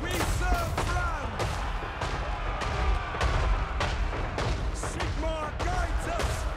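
Rapid gunfire and booming artillery from a Total War Warhammer 3 battle, with the Reikland army firing on dwarves; dense, loud volleys and cracks crowd the whole stretch while someone talks over the fighting.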